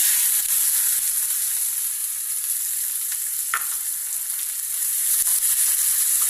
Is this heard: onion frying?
yes